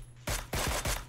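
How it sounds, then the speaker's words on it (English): Three loud, sharp rifle shots ring out one after another, evenly spaced, in the battle royale game PlayerUnknown's Battlegrounds, each with a booming low tail and no talking between them. "let's try to take a few shots"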